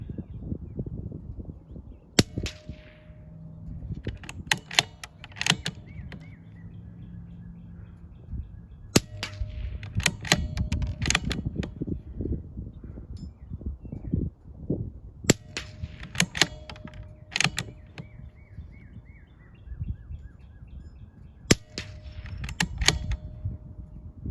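Bergara B14R rifle shots aimed at a steel spinner target outdoors, sharp loud cracks in short clusters of two to four with pauses between groups, metallic ringing tails after impacts, over steady background hiss.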